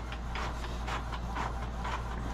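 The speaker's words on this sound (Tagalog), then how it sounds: "Test print tayo." An Epson L120 inkjet printer on a bypass ink setup runs a test print, giving a steady mechanical whir with rhythmic, regularly spaced pulses from the moving print head.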